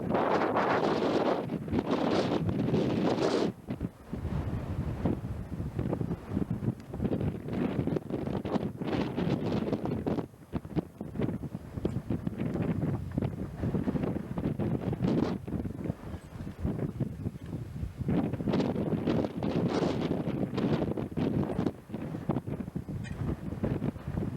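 Steady wind gusting outdoors among bracken-covered ruins in the Irish countryside, roaring and buffeting the microphone almost continuously, with brief lulls.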